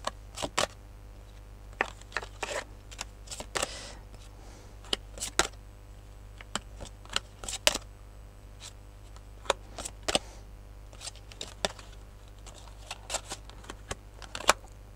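Tarot cards are shuffled and handled at a table during a love reading, with sharp riffling snaps and flicks recurring irregularly over a steady low hum, close by and without speech.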